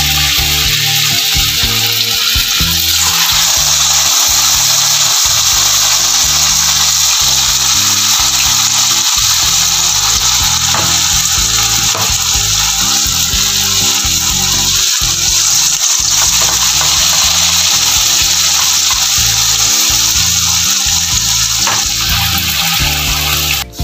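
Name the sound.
vegetable fritter batter frying in oil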